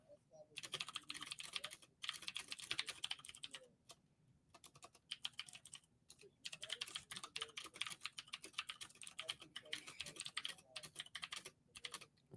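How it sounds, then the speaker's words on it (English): Rapid clacking of a loud mechanical computer keyboard, continuous bursts of keystrokes with brief pauses, close-miked and dominating the sound. "Sorry, my mechanical keyboard is loud."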